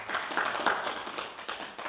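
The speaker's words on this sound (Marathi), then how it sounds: "सर्वांचं टाळ्या वाजून त्यांचं स्वागत करा." Audience at a Marathi religious discourse claps to welcome guests, a dense, steady patter of many hands at moderate distance, continuous for a couple of seconds.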